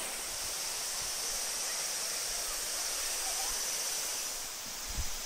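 A waterfall in rural Japan roars as a steady, even wash of broadband noise that holds at a constant level throughout, with no voices.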